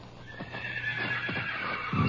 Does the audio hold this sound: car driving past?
no